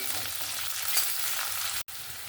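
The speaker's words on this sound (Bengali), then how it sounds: "তিনটা কাঁচা লঙ্কা দিয়ে ভালো করে এটা ভেজে নেব পেঁয়াজটার সঙ্গে" Green chillies and onion fry in a pan for a vegetarian bottle gourd and chickpea dish, giving a steady, close, bright sizzle that briefly cuts out near the end.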